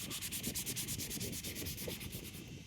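A car headlight lens on a junkyard restoration build is hand sanded with 80-grit sandpaper. Close, rhythmic rasping strokes run up and down at a quick even pace with no voices.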